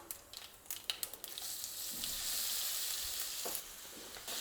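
Crushed raw mango with hing and spices sautés in a kadhai over a very low flame, making a faint, steady sizzle. Several quick clicks and scrapes of stirring come early on, and nobody talks.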